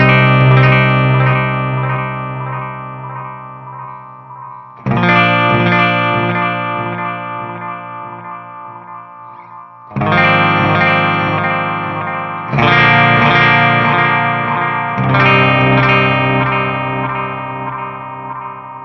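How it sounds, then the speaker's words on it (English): Electric guitar through a Boss DD-500 delay in an amp's effects loop, with EQ taming the repeats' highs: five ringing chords struck at roughly even intervals, each sustaining with lush chorus-like echoes that trail off, loud and upfront with no talking. "I've kind of got a nice delay tone here"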